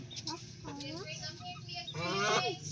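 A chicken clucks nearby in short, rising calls, mixed with people talking over a low background hum.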